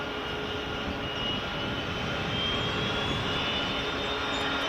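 A United Airlines jet taxiing at Edinburgh Airport, its engines giving a continuous steady rumble with a thin high whine slowly rising in pitch, fairly close and unbroken with no voices.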